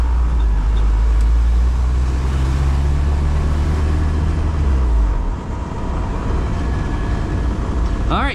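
A 1993 Jeep Wrangler engine runs loud and close while it drives up through the gears, with a deep steady rumble that eases after about five seconds. A short high whine comes near the end.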